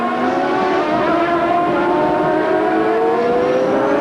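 A 1993 CART IndyCar race car screaming uphill at the Monterrey Grand Prix, its engine pitch climbing smoothly and steadily as it accelerates, loud and close, a continuous high whine with no voices.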